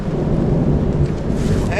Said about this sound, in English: we heard our first thunderclap in the distance